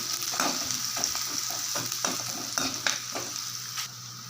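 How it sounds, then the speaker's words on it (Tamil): Onions sautéing in a pan, a steady close sizzle broken by repeated rhythmic stirring scrapes about every half second, no voices. "வெங்காயத்தை நல்லா இதில் வதக்கிடலாம்"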